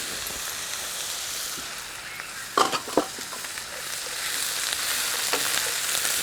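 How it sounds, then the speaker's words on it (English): Green onion and mixed vegetables sauté in a pan for a cassoulet, giving a steady broadband sizzle with a few louder stirring scrapes and clatters in the middle, close and without talk. "Just saute it for a little bit till the veggies just start to limp a little bit."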